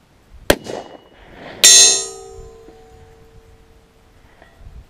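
A sharp shot from a Desert Tech SRS-A1 .260 Rem rifle with factory ammo, then a delayed, loud ringing clang as the bullet strikes a steel plate at 945 yards. The metallic tone decays gradually in a quiet outdoor setting.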